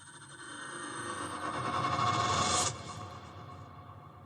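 A suspenseful app sound effect marking the completion of a day, a dense swelling tone that builds steadily for about two and a half seconds, then cuts back to a fainter sustained tail, heard alone.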